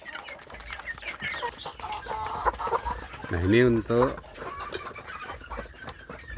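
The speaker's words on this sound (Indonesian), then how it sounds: "anak ayam kampung yang sudah besar ya saudara" Grown free-range village chicks cluck and chirp nearby in a small flock, with one louder burst of calls standing out midway, while someone talks over them.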